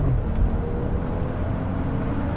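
Turbocharged BMW engine with a bolt-on intake, heard as a steady low rumble and drone from inside the moving car, continuous and fairly loud with a faint whine above.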